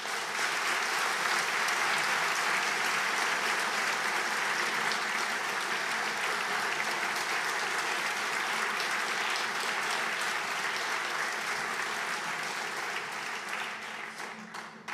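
Sustained applause from a gala audience at a foundation's tenth-anniversary evening, loud and dense throughout with no talk over it, easing slightly near the end.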